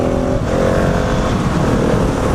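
A KTM 701 Supermoto revs hard in third gear for a wheelie, its engine loud and close and droning steadily throughout, with a brief dip partway through.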